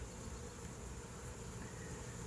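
A large honey bee swarm crowded around a hive gives off a dense, steady buzzing hum that holds at an even level throughout, close and continuous, with no voices.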